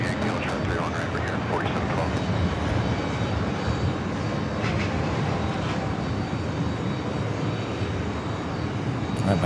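Jet airliner on Korean Air Flight 82 bound for Tokyo Narita, a steady broadband engine roar holding at moderate loudness throughout at a busy New York JFK airfield.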